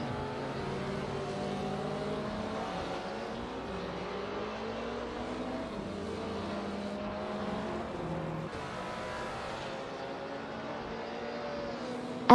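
Supercar race engines in a racing simulator game: a steady, distant-sounding drone of several engines with shifting pitch lines as cars rev and pass, quiet and continuous throughout, with no voices.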